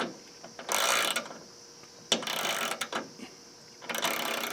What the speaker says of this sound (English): So of these 4 ratchets, this one has the least amount of teeth.